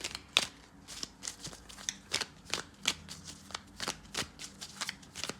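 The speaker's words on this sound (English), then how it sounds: "So I'm going to pull from my deck." A deck of tarot cards is shuffled close by, with a steady run of crisp riffling snaps and flicks at an even rhythm.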